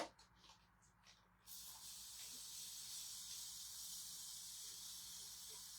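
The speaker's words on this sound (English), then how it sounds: "Okay, so I'm going to spray it again." A spray bottle of cleaner releases a long, steady hiss of mist that starts abruptly and continues evenly, close and fairly loud, after a few faint earlier sounds.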